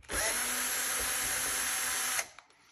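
A power screwdriver backs screws out of an Epson 2030 projector during disassembly: a steady, close whirring spin for about two seconds that cuts off, followed by a few faint clicks.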